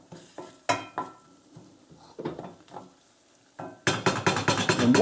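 Wooden spoon scraping and stirring a thick spice paste in a pan for chicken balti, with scattered knocks and soft sizzles, then a busier burst of stirring toward the end.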